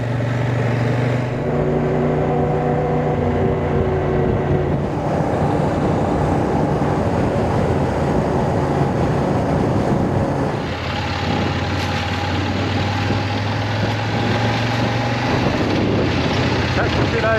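A CFMOTO 800MTX adventure motorcycle rides through sand on a bush track, its engine a steady, loud drone with shifting pitch and wind buffeting throughout, and no break in the noise.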